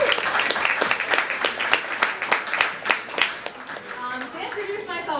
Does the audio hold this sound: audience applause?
yes